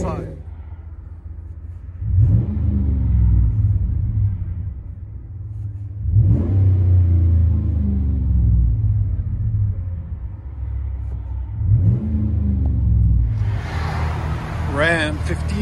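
A 2017 RAM 1500 pickup with the 5.7L HEMI V8 and dual Flowmaster 40 series exhaust revs in three deep, rumbling bursts, each dropping back to a low, burbling idle, heard up close.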